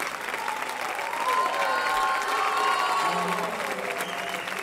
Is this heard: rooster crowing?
no